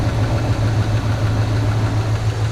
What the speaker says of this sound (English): All right, got it running, got it hooked up, got a temporary signal wire on there. See, it's all spinning.